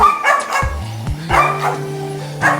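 Dogs at a dog and cat shelter let out several sharp, close barks and yips in irregular bursts, with whining tones drawn out between them.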